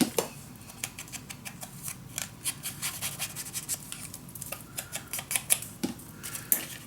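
Paper being cut for a handmade box mini album, with repeated short crisp snips and rubbing clicks close by at a steady, uneven pace, no talking.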